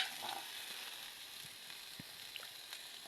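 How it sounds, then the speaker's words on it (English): Onions stir-fry in oil in a sufuria, a faint, steady hiss of frying with a few soft stirring taps, close but quiet, and no voices. "In a sufuria, add your oil and stir fry your onions."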